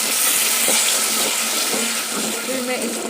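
Water pours steadily into a cooking pan over sugar for a sweet dish, with a continuous splashing rush, close and fairly loud, with faint voices underneath.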